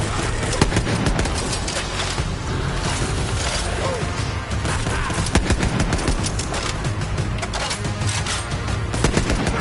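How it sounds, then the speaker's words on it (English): Dense, continuous gunfire from Borderlands 3 fills the whole stretch: rapid automatic bursts and sharp cracks overlap with mechanical clatter, loud and up close with hardly a pause. "Shoot you with my gun!"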